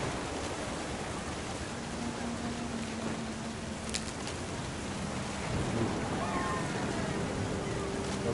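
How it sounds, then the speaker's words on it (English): Steady rain pours beneath low rumbling thunder in the video game What Remains of Edith Finch, a continuous wash of downpour with a brief crack partway through and a deeper rolling rumble toward the end. "Thunder sounded much too close and full of angry power."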